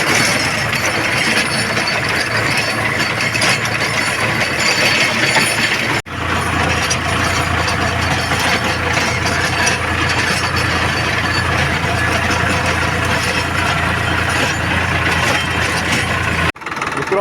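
A tractor engine drones steadily while a rotavator cuts through brinjal plants in a field, loud and continuous with metallic clinks, broken by two brief dropouts.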